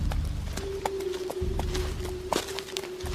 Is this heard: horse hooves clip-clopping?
yes